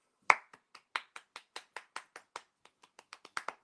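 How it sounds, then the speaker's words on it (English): A single person clapping about fifteen times at an uneven, slowing pace, with sharp close claps and no talk. "Give yourself a round of applause."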